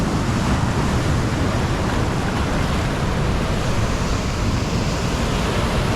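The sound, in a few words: strong ocean waves at the beach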